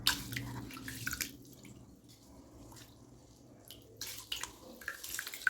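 Rice being swished and rinsed in water by hand in a home kitchen, soft watery sloshing and dripping with quieter moments between, close and fairly faint, with no talking.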